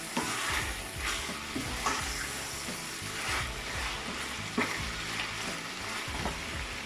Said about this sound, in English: So our meat has been cooking for 5 minutes.